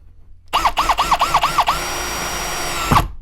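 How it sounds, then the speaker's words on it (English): A screw tip spins against plywood under a power driver, pulsing in about six quick whirring bursts before settling into one steady high whine, then stopping abruptly with a thump, close and loud. "That's the tip trying to go through plywood."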